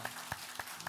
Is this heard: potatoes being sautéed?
no